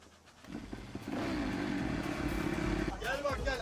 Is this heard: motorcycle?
yes